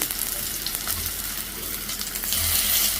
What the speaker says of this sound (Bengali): এখন আমি এইটা ভাজবো সুন্দর করে।